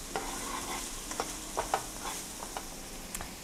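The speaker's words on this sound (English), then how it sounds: "I'm gonna put my chopped onions in and my chopped shallots. And we're gonna saute it." Chopped onions and shallots sauté in hot oil, giving a steady close hiss and sizzle broken by scattered light scraping taps of a stirring spoon.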